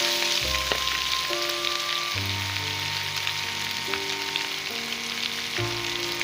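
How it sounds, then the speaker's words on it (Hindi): Steady, loud sizzling and crackling of garlic and ginger frying in hot oil, with a faint tonal hum in the background. "ये लहसुन अदरक फ्राई हो गया है।"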